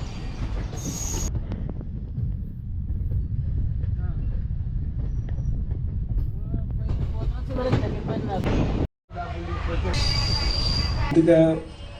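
A Kurnool to Guntur express train rolls along with a continuous low rumble and rattle of wagons, wheel squeals and clatter rising near the end, with a brief dropout partway through.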